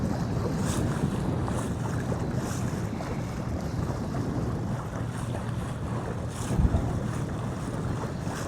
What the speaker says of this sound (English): This is windy again.